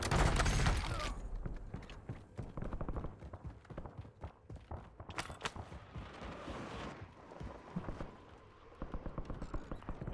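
Gunfire in a shooter video game: a loud burst opens, then rapid volleys of shots crackle in uneven bursts over a low rumble, with faint voices now and then.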